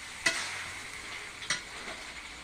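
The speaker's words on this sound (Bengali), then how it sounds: "এই গরম জল একটু দিয়ে দেবো।" Hot water splashed into mutton frying in a pan, two sharp hissing bursts about a second apart over a steady sizzle, close and moderately loud, with no voices.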